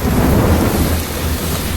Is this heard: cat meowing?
no